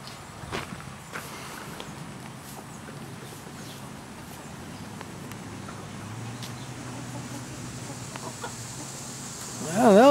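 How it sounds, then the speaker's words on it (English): A rooster and his hens on a farm give soft scattered clucks at a modest distance over quiet outdoor ambience, with a louder burst of calls near the end. "There they are. Chickens. The rooster's right there, got all his hens."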